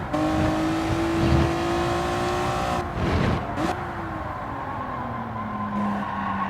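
Honda NSX racing around Tsukuba Circuit in Gran Turismo 7, its engine note rising and falling steadily with brief tire squeal and a quick gear-change dip midway, loud and continuous with no talking.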